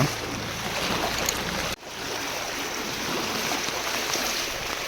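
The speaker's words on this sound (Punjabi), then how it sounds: "ਇੱਧਰ ਵੀ ਪਾਣੀ ਚੱਲ ਰਿਹਾ ਸਾਰੇ ਪਾਸੇ ਪਾਣੀ ਆ" Floodwater flowing through the streets of a flooded village, a steady close rushing wash with wind noise on the microphone and a brief dip midway, no talk.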